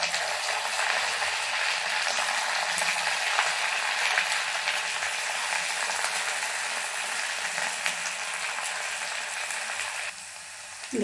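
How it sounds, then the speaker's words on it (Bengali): Bread-based gulab jamun balls, six of them, frying in hot oil, giving a steady, close bubbling sizzle that runs unbroken for about ten seconds and then eases slightly near the end, with no talking. "দেখুন, আমি 6টা ছেড়ে দিয়েছি তেলে।"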